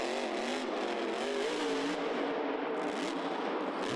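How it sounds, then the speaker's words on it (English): Grave Digger monster truck at a Monster Jam event, its engine revving high and loud with rising and falling harmonic pitch sweeps, continuous and close, with crowd and arena noise underneath. "I notice how the truck's revving really high."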